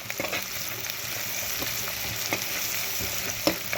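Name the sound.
ginger garlic paste frying for spicy chilli meal maker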